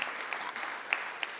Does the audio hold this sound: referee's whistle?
no